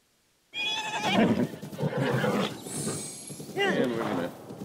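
Horses neigh and whinny in Zelda: Breath of the Wild, loud and close, with a couple of long whinnies. There is some game noise underneath.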